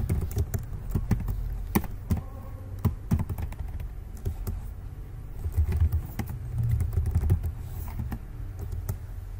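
Keys clatter on a computer keyboard as JavaScript code is typed, with irregular close clicks and bursts over a low background hum.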